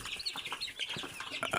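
Chicks peep repeatedly in quick, high, rhythmic calls, fairly close and steady, with a few fuller clucking notes mixed in; no one speaks.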